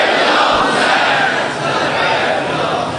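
A large crowd at a Muharram majlis shouts a religious chant in unison, a loud, dense roar of many voices that holds steady from start to finish.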